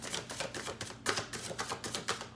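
Large tarot cards being shuffled by hand, a quick run of close, crisp papery riffles and flaps in an uneven rhythm, with no voices.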